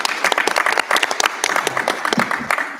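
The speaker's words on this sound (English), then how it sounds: "Can you please give a round of applause to panel A, who's just been amazing tonight?" An audience at a law school panel event on pathways to the bench applauds continuously, a dense wash of many hands clapping at steady loudness throughout, with no talk over it.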